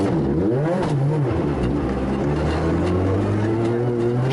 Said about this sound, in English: Dropping over 2 minutes trying to restart the car